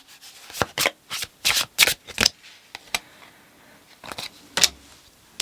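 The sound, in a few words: shuffling tarot cards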